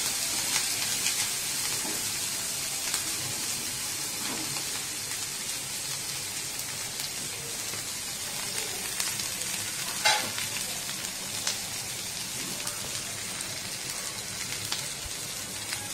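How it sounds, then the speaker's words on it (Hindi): Green chillies crackle and sizzle in hot oil in a pan while a Rajasthani green methi and chilli sabji is cooked, a steady close, dense frying hiss with scattered pops and no talk. "मिर्ची को फटने देखिए"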